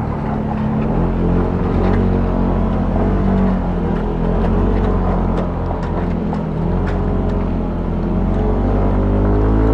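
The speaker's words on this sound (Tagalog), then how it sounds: "kayang-kaya ng motor natin to" A dual-sport motorcycle engine drones loudly and steadily throughout on a rough road near Baguio City, a thick rumbling roar with slight rises and dips as the bike rides along.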